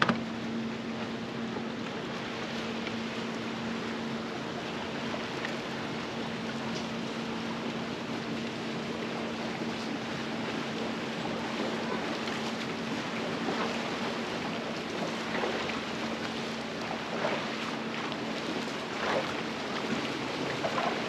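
Continuous rushing water and sloshing waves with a low engine drone underneath, steady and moderately loud throughout, like boat wake rolling across a lake.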